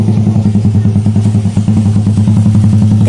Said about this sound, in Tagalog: may maingay na sasakyan